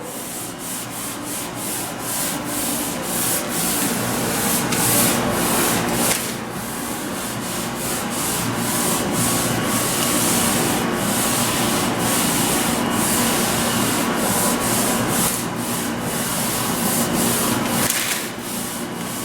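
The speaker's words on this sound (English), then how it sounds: "So you just get your sponge wet and wring it out. Just go around the edges so it'll just about melt off and blend in with the rest of it." A wet sponge rubbed over torn drywall paper edges during a sheetrock repair makes a continuous, close, scratchy scrubbing. Quick repeated strokes give it a fast rhythmic texture that runs steadily the whole time.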